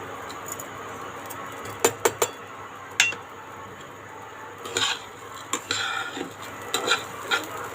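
Flattened rice (chira) frying in a pan and being stirred until crisp with salt and sugar: intermittent scrapes and light metallic clinks over a steady soft background, with no talking.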